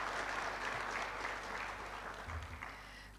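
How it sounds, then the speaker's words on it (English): Audience applause at a university graduation ceremony, a continuous spread of clapping from a large crowd, steady and somewhat distant-sounding, with a low background hum beneath it. "So we must really give Prof one really big applause"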